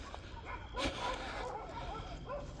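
Several stray dogs bark and yelp from a distance, faint and scattered against a constant background hum.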